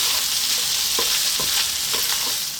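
Beef tibs with rosemary and chili peppers sizzle loudly in a pan, close up, with several distinct scraping stirs cutting through the constant frying hiss.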